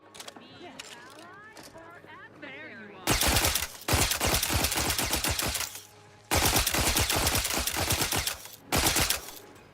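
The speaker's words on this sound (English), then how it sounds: "I just mag dumped on Inez thinking it was an enemy charging at me." Rapid automatic rifle fire from The Outer Worlds 2, emptying a magazine in three long loud bursts of fast, evenly spaced shots, with game sounds and brief quieter moments between them.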